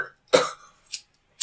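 A single sharp cough up close, followed by a couple of short, softer breathy bursts, with quiet pauses between.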